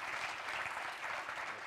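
An audience claps steadily as a speaker leaves the stage at a panel on scaling up nutrition to overcome poverty, a dense, even wash of applause from a crowd.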